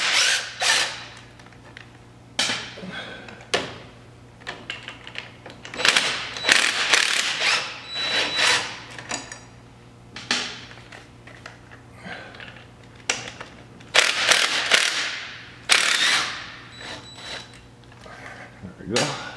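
A hand ratchet fitted with a 10 mm socket works on a Polaris Sportsman 500 ATV engine, giving repeated bursts of close, sharp clicking strokes separated by short pauses, with a steady low hum underneath.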